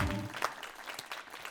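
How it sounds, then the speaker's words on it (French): Studio audience applause on a French television talk show, a brief faint burst of clapping that fades out quickly. "Mesdames et messieurs, un tonnerre d'applaudissements"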